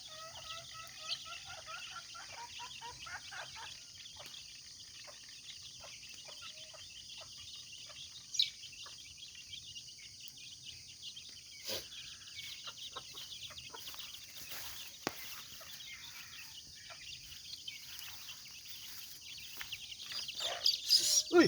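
Chickens at a morning feeding, including an aggressive mother hen, cluck and call faintly in the background, with scattered short sharp bursts and a livelier flurry toward the end.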